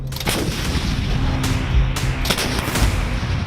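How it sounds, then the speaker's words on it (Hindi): An Indian Army multiple rocket launcher fires 40 rockets in a continuous heavy bombardment of booming launches and blasts rolling over one another, loud and close, with a few sharper bursts standing out. "इसमें एक बार में 40 रॉकेट लोड होते हैं जो 20 सेकंड में फायर किए जा सकते हैं।"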